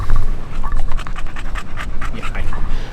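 A small dog pants close up in quick, rhythmic, breathy bursts, loud and continuous throughout.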